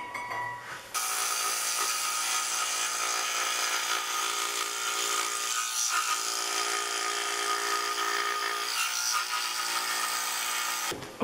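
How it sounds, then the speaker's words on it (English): A scroll saw cuts wood pieces for an intarsia shark, a steady, close buzzing whine that runs without a break for about ten seconds, then stops abruptly. "now I'm going to use the scroll saw and cut away"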